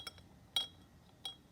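A rod stirs freezing naphthalene in a glass vessel, giving three faint, sharp clinks spaced apart against quiet background.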